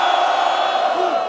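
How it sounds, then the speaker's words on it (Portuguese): Crowd at a rap battle roaring and shouting, a dense, loud wall of voices sustained briefly. "Barulho pra batalha!"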